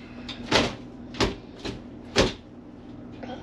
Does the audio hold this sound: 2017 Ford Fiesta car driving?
no